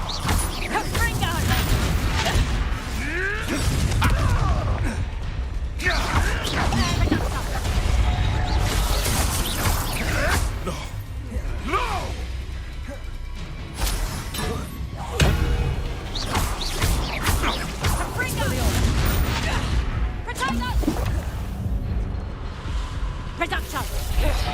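Confringo blasting spells fired in a Harry Potter video game, repeated bursts, thumps and crashes over a dense, loud battle mix, with a voice calling out spell names throughout.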